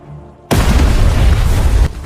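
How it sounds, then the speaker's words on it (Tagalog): Bombs go off in one loud, sustained blast that begins suddenly and rumbles heavily for over a second before cutting back to a low background. "pinasabog niya ang mga bomba"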